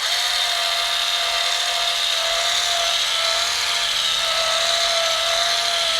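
A Liquid Elements A1000 mini polisher runs steadily on a low setting over a small patch of paint, giving a continuous close whirring drone with a faint high tone that wavers slightly throughout, with no talking.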